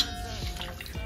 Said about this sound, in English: once it's drenched, you want to squeeze out the excess water